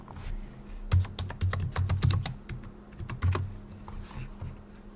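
Fingers tap out a login on a computer keyboard for an Ubuntu virtual machine, a quick burst of close, crisp keystrokes in uneven clusters, then a pause and a few more taps.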